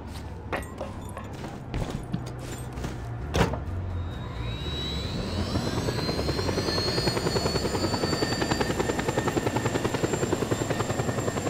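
A military helicopter in the Just Cause 2 game spools up with a rising turbine whine, then settles into a loud, steady rotor chop that runs on to the end.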